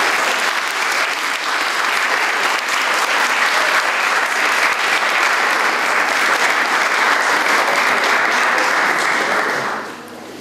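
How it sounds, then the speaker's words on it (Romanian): A full audience claps loudly and continuously for about ten seconds at a Romanian cultural talk show, a dense, even wall of applause that cuts off abruptly at the end. "Aplauze."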